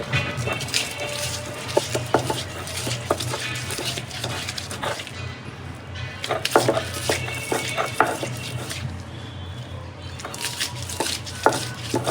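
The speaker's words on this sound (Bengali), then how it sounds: "এই পেঁয়াজটি একটু আস্তে আস্তে থাকবে, এরকম করে বাটতে হবে" Onions being ground into a paste by hand, a steady busy run of rhythmic grinding and knocking strokes with clattering of utensils, close and fairly loud throughout with no talk.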